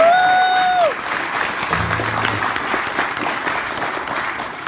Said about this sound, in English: big round of applause for Tab Marks over here